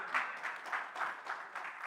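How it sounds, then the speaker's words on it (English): Audience applause at a men's night event after a volunteer's performance, rhythmic rounds of clapping swelling in waves, moderately near and fairly soft. "Y'all give him a big hand clap"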